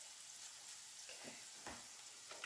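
Meatballs sauté in olive oil for spaghetti squash, giving a quiet, steady hiss of frying with a few soft clicks of stirring and pan contact near the end.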